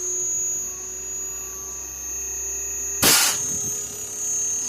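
An air conditioner unit running on a repaired PCB gives off a steady electrical hum with a high tonal whine, broken once by a short sharp click or thump.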